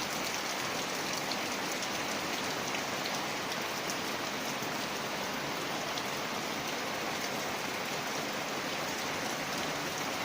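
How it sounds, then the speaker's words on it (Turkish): Heavy rain pours steadily outdoors during a countryside exploration trip, a dense, continuous hiss and patter that stays even and close throughout with no voices. "Yağmurumuz şakır şakır yağıyor."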